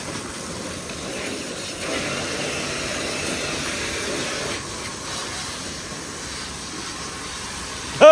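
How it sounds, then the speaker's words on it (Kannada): A vehicle is washed with a pressure washer, giving a steady, loud hiss of spraying water with an engine-like drone underneath that runs unbroken throughout, with no speech. "ವಾಶ್ ಮಾಡ್ತಾಯಿದ್ದೀವಿ ಗಾಡಿ."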